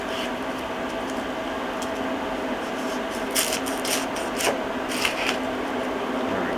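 A knife slices both ends off an onion during prep for bacon-wrapped onion rings, giving a few soft, crisp cutting crunches close by over a steady background hiss.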